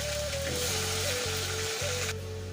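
Cut potatoes added to hot oil with onion paste, a steady bright sizzle running throughout beneath a sustained low hum, close and unchanging.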